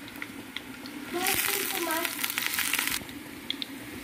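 Garlic cloves and onion frying in a pan, a soft steady sizzle that swells louder for a couple of seconds as the pan is stirred, then settles back to a faint crackle.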